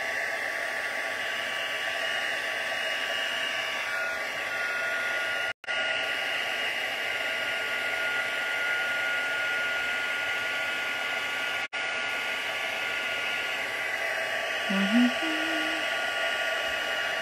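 A heat tool blows a steady, loud whoosh to warm a paper card, running continuously with two brief cutouts and a faint murmur near the end.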